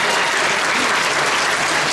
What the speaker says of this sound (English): If this is your first time to a physics show, give yourselves a round of applause